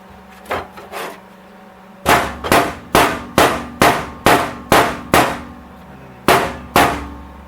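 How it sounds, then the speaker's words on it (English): Hammer blows on the floorpan of a Datsun 280ZX under repair: a few light taps, then a steady run of about ten sharp, ringing metal strikes, loud and close, with a final pair after a pause. "And I can hammer down and get that one probably."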